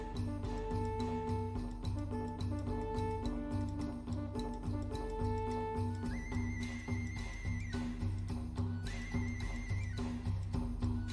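Horses neighing during a raid in the video game King of Dragon Pass, a few high whinnies rising over a steady, dense game soundtrack.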